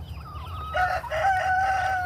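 A rooster crows among chickens in a mature flock with newly introduced young chicks, a loud drawn-out call with clucking around it, close by and with no talk.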